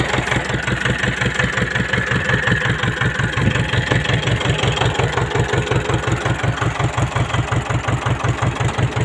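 Farm tractor engine idling steadily up close, a loud, even low chug with a regular rapid pulse that runs unbroken throughout, no other sounds over it.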